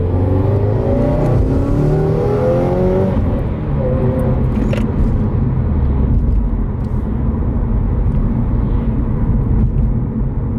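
A 2018 Subaru WRX with a removed J-pipe drones steadily and close, with a low exhaust rumble that rises briefly as it accelerates, continuous throughout with no voices.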